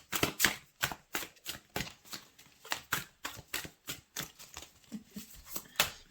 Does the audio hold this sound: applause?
no